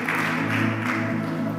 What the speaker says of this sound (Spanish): denle un aplauso fuerte a Cristo en esta tarde